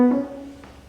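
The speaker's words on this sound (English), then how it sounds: "the first one's basically just muting the strings, which gives a sort of more percussive, perhaps marimba-like effect" A single piano note played with the strings muted by hand gives a short, dry, percussive knock like a marimba that fades quickly.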